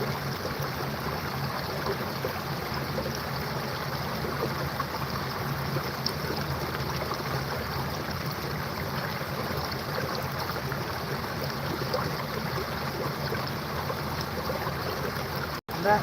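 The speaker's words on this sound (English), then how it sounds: "that bubbling creek sound you hear is so beautiful" A bubbling creek flowing beside a snowy riverside hiking spot, a steady, close, continuous rush and gurgle of water with no breaks, ending in a brief dropout.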